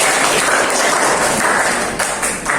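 Steady clapping from students in a classroom, a dense, continuous patter of many hands at close range lasting a couple of seconds.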